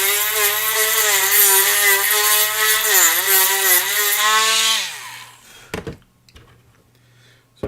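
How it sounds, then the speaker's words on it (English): A drill bores a hole in wood, its steady whining tone rising and dipping under load for about five seconds, then stopping, followed by a few short knocks and clicks. "So I'm trying to drill a hole in here"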